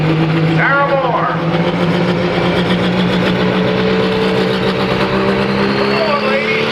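A tractor engine revs hard at a tractor pull, a loud sustained roar that holds steady throughout, with an announcer's voice talking over it.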